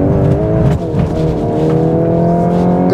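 A 2023 Volkswagen Golf R 20 Anniversary accelerates hard, its engine note loud and close from inside the car, with a brief dip at a gear change before the pitch climbs steadily again.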